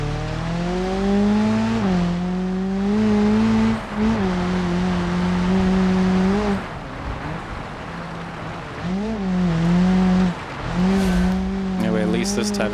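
A car engine in the BeamNG driving game hums steadily, then revs up in repeated rising pulls and drops back between gear changes, loud and near, with brief tire noise.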